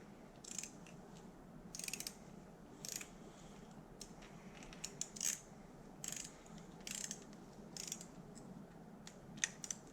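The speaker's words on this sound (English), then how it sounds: "you're trying to use your torque wrench as a ratchet, like I am, and you end up spinning it for a while" A torque wrench ratchets on engine bolts during a Dodge Dart 360 Magnum engine swap, giving repeated bursts of quick metallic clicking spread across the clip, fairly close and with no talk.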